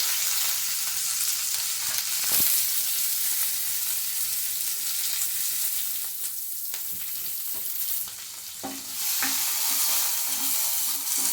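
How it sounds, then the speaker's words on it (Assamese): Onions sizzle steadily in hot oil in a pan as the base for a catla fish curry, a continuous close frying hiss with a few brief stirring clatters and no talking. "এইখিনি আমি ধুনীয়াকৈ ৰংচোৱা হোৱালৈকে ভাজি ল'ম"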